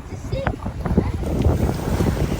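Gusty wind buffets the microphone with a rough, rumbling roar, steady and close, over faint outdoor background.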